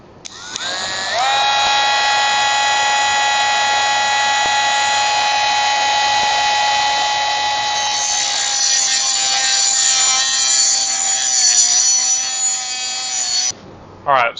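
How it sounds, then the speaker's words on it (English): Cordless Dremel rotary tool cutting a bicycle fork, a loud high-pitched steady whine sustained for over ten seconds, turning rougher and grinding before it cuts off, then brief knocks. "This is a new wireless one I've got. It's a Dremel brand"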